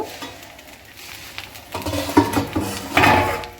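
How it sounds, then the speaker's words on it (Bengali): A cooking pot's lid is lifted off during preparation of an ivy gourd dish with ginger-garlic paste and tomato, giving a few close metallic clanks and scrapes that grow louder toward the end. "এবারে আমি ঢাকনাটা খুলে নেব।"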